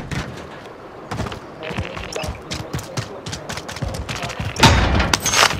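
Bombs and explosives thrown in a shooter video game: repeated muffled booms and thuds burst at irregular intervals, with one louder, closer blast near the end amid busy battle noise.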